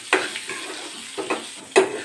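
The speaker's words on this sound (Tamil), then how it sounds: "தக்காளி நல்லா வதங்கிடுச்சு." Tomato sautés in hot oil in a pan, with a soft sizzle broken by three short scraping stirs of a spatula, close and without talk.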